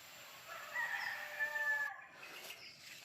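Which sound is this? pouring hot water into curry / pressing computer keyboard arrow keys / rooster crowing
rooster crowing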